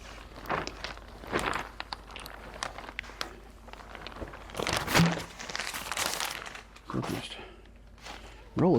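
Folded plastic sheeting being unrolled for winterizing a chicken coop, giving repeated crinkling and rustling bursts with footsteps, close and moderately loud, with occasional speech between the rustles.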